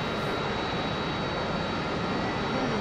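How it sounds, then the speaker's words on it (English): Aircraft engine spinning up during engine start in the DCS World flight simulator game, a steady loud roar with a high whine running throughout, no voices. "Engine start."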